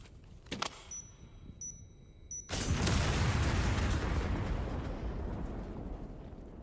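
A detonation in the video game Resident Evil 9 Requiem, where a few faint clicks give way to a sudden loud blast and a long rumbling roar that slowly fades.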